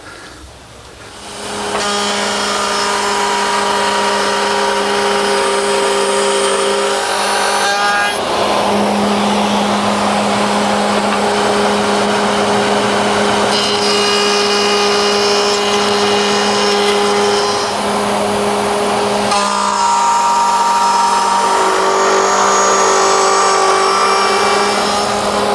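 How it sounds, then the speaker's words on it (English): Router bit cutting a groove along a wooden desk leg, moving from mortise to mortise: a loud, steady whine with strong tonal hum runs the whole time, shifting slightly in pitch as the leg is pushed through, with no talk. "lower the leg in the mortise area over the bit, push it along until I get to the other mortise, stopping at the line"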